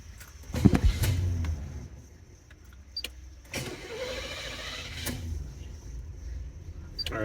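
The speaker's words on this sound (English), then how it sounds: "Let me try to start the car." A car engine cranks and starts with loud bursts near the start, then settles into a steady idle with occasional clicks and thumps from inside the cabin.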